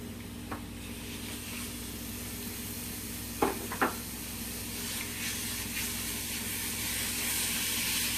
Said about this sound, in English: I'm gonna go ahead, saute the butter and the onions